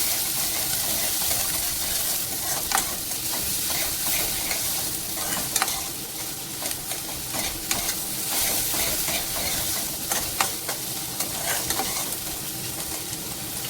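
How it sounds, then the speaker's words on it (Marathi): Finely chopped onion sautéing in a pan with cumin and curry leaves, a loud continuous sizzle broken by frequent scraping stirs. "कांद्याला छान परतवून घ्यायचंय."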